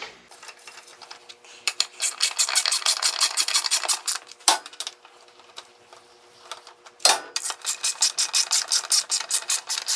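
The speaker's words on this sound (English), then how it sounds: "I'll take a 1/2-inch socket just on a normal ratchet," A hand ratchet with a 1/2-inch socket runs bolts down during transmission case assembly on a 47/48RE kit, giving fast, close, crisp clicking runs interrupted by short pauses and heavier clunks as the tool is repositioned.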